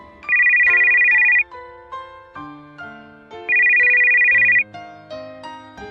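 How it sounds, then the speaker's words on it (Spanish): A mobile phone ringtone plays alone, a bright melodic electronic jingle with two sustained high beeping phrases over a looping tune, steady and fairly loud. "osando llamarla a su teléfono móvil, y ella contestó con una jubilosa sonrisa"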